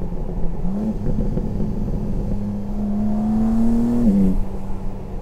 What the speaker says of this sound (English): The turbo spools, the exhaust burbles.